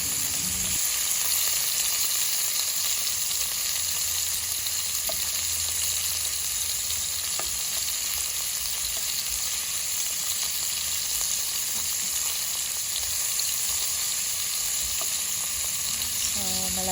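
Beef frying in a pan, a steady, dense sizzle that runs loud and unbroken throughout, with no voices over it.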